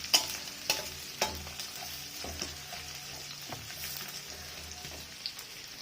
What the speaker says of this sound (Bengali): তারপর দেবো কুচনো পেঁয়াজ, কালো জিরে, পেঁয়াজ, শুকনো লঙ্কা ভালো করে ভেজে নেবো লাল করে।